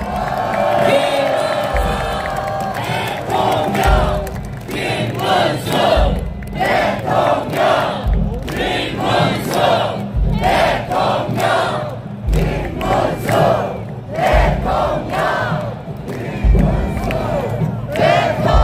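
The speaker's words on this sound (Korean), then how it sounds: "여러분 큰 박수와 함성으로 맞아주시면 고맙겠습니다" Large outdoor crowd at a Seoul City Hall election rally cheering, shouting and applauding loudly and continuously, with rhythmic bursts of whoops and claps swelling throughout under a booming amplified backdrop.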